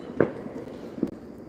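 Neighbor's fireworks going off outdoors at night: two separate distant pops roughly a second apart, faint against quiet background noise.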